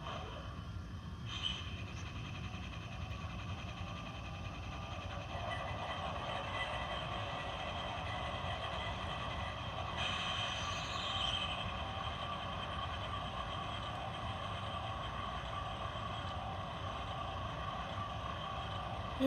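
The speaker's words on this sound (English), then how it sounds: "I'll turn the compressor on so you guys can hear that" A steady mechanical hum and whir from the compressor on a custom model locomotive runs for the whole stretch at an even, moderate level, with faint higher tones shifting partway through and no talking over it.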